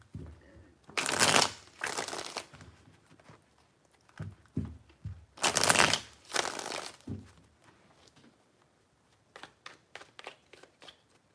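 Tarot cards shuffled in three loud riffling bursts, each a dense papery flutter of a second or two, followed by softer card taps and handling sounds, with no talking.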